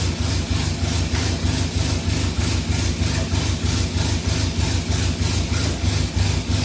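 A classic Mini car engine idles nearby with a rough, evenly pulsing beat that stays steady throughout.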